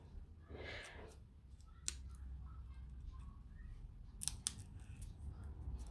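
Scissors snip card for a haunted house light-up card craft, a few quiet, isolated cuts close by in a soft room.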